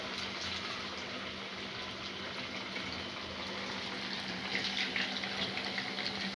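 Sabudana and potato vadas deep-frying in hot oil for a fasting snack, a steady dense bubbling hiss that holds evenly throughout, swelling slightly near the end, with no voices.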